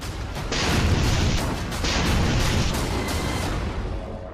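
A loud, sustained roaring blast fills the clip, rumbling and crackling as a naval cruise missile strikes a ship, with a second surge of noise partway through.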